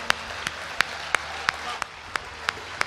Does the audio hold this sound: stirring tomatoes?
no